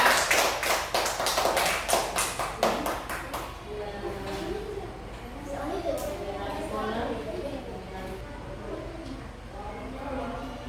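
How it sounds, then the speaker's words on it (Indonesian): Applause for group 2 in a classroom: a burst of clapping from the students for roughly three seconds, followed by voices talking in the room. "tepuk tangan untuk kelompok 2"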